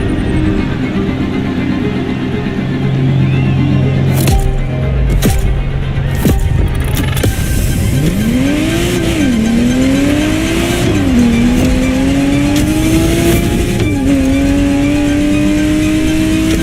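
A Ferrari Testarossa in The Crew Motorfest, engine rising in pitch through repeated revs and gear changes, loud and close, with a few sharp transient knocks early on.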